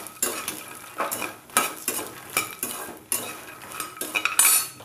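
Makhana (fox nuts) being fried in ghee and stirred with a metal utensil, giving repeated close scraping and clinking strokes against the pan over a faint sizzle, with no talk.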